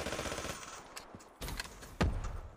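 PPSh submachine gun in Black Ops 3, faint bursts of rapid gunfire with a sharper, louder shot near the end.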